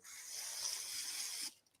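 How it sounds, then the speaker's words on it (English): A cloth rubs contact cleaner along model railway track, one soft continuous scrubbing stroke lasting about a second and a half before stopping, close and quiet. "So I'm just going to put this on, cloth here, spray it on, rub it down the track."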